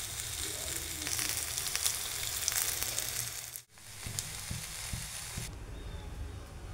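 Rice and green moong dal dosa sizzling and frying on a hot pan, a steady crackling hiss with a brief dip midway, then continuing to sizzle under a lid as it steams.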